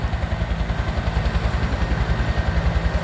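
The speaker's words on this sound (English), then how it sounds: "Helicopter is behind us." Helicopter working near a wildfire, its rotor thumping in a fast, even pulse with a low engine drone, steady and fairly close, with no talk.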